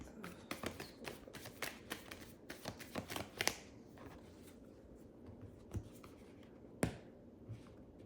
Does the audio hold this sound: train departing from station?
no